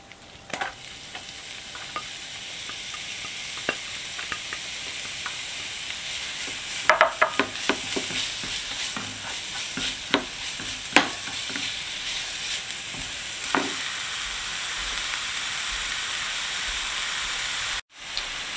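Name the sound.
red onion frying in olive oil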